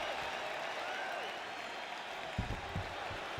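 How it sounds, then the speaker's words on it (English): A video game UFC 5 arena crowd roars and applauds in a steady, distant wash of cheering during a women's bout, with a few thuds of fighters moving near the end. "The crowd goes crazy because they appreciate the high-level grappling that these two women just"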